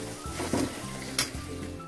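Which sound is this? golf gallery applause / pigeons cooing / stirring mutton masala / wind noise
stirring mutton masala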